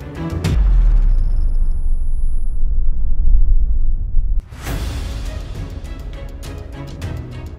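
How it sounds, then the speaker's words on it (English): Thulium powder reacts violently inside a glass test tube while being heated, giving a sharp pop and a sustained loud roaring rumble, then an abrupt burst as the tube breaks, followed by crackling, hissing debris noise. "it was an extremely bright and violent reaction. I honestly didn't expect the test tube to break."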